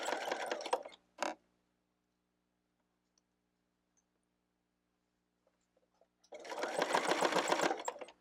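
A sewing machine stitches quilt binding in short bursts: a brief run, a quick second burst, then several seconds of near silence with faint clicks before a longer run of rapid, rhythmic stitching.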